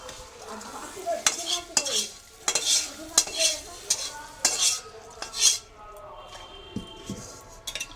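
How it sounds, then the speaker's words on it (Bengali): A spoon stirs mung dal in a metal cooking pot, with repeated clinks and scrapes against the pot over a soft sizzle, close by, with a voice talking faintly in the background. "এটা একটু নেড়ে নিলাম, হালকা করে একটু নাড়ি"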